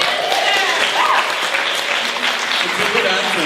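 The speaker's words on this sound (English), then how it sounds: "Let's have a round of applause for the answer." A room full of people at a comedy show applauds in a steady, fairly loud wash of clapping, with some voices and murmuring mixed into the crowd noise.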